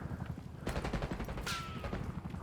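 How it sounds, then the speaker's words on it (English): Gunfire in the Call of Duty video game, a burst of rapid shots lasting about a second amid constant in-game background noise, followed by a short high ringing tone. "There's a gunshot."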